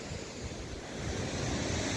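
Steady, full roar of a mountain waterfall near Mana village, heard close and unbroken, swelling slightly louder toward the end, with no voices.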